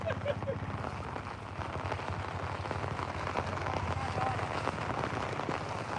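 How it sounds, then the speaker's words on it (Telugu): Heavy rain in Telangana pounds down in a dense, unbroken roar, loud and constant throughout, with a faint low hum beneath. "ఘోరంగా వర్షం పడుతుంది"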